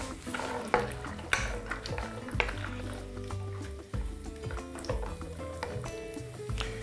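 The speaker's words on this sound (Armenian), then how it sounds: "Դեղցի ճիրի հետ կտապակեմ նաև ընկույզ" Dried peaches and walnuts fry in a pan, stirred busily with repeated scraping and clattering against the metal over a low sizzle, close and fairly loud throughout.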